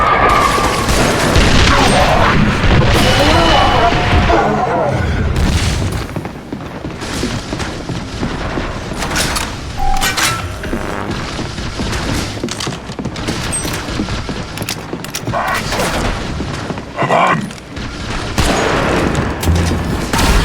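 Artillery barrage in The Bureau: XCOM Declassified, a dense stretch of booming explosions and rapid gunfire that fills the whole scene, loud and continuous with heavy blasts throughout.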